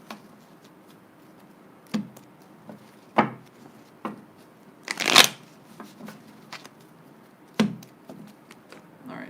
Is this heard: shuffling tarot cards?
yes